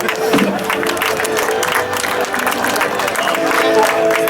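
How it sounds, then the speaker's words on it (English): Audience applause and cheering at a stunt performer's stage show, a dense, lively crowd roar with clapping and shouts that stays loud and continuous. "Feel free to applause in amazement."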